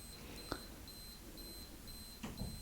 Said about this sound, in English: So there's the audio beeps